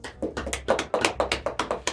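A few hands clap in quick, regular beats, about four per second, close and crisp, in a small talk-show setting with no speech over them.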